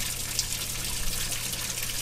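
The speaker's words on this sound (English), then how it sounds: "our water is gravity fed from a spring. So that's coming in pretty good for being gravity fed from the spring." Spring water runs in through a gravity-fed line, a steady rushing gush of flow that holds even and close throughout the brief moment, with no voices.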